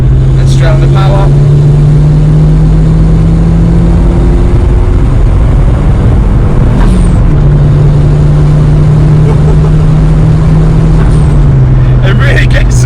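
Turbocharged engine of a Ford Escort RS Cosworth accelerating up through the gears from inside the car, a loud droning note that climbs and drops with each shift while someone talks over it.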